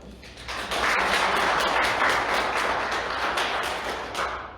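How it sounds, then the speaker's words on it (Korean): Sustained applause from an audience at an annual general meeting: many hands clapping at once, rising quickly, holding steady for several seconds, then tapering off near the end. "박수 한번 주시죠"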